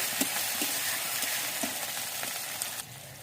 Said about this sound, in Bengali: এবার এটাকে ভালোভাবে নেড়ে চেড়ে দিতে হবে।